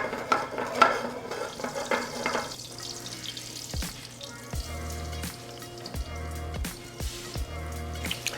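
Spicy crusted halibut sears in browned butter in a hot pan, giving a moderate sizzle with dripping, bubbling spatter and several sharp clicks and knocks of cookware, nobody speaking.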